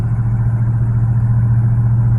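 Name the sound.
loud aftermarket exhaust of a 1968 Mercury Park Lane Brougham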